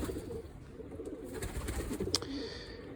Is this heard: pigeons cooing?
yes